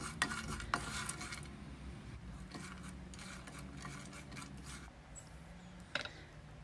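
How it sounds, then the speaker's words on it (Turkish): Almonds, walnuts and peanuts are dry-roasted in a pan, with quiet scraping and rattling as a utensil stirs and rubs the nuts against the metal, plus a few sharper clinks. "Bu malzemeleri güzelce kavuralım."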